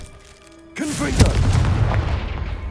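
After a short steady tone, the Confringo fire spell in Hogwarts Legacy goes off as a sudden loud blast, followed by a sharp crack and a long rolling rumble that stays loud to the end.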